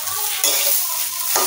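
Rice for biryani is stir-fried in a pot, with loud scraping strokes of a spoon through the grains over a continuous sizzle. Two or three sweeping stirs are heard up close with no voices.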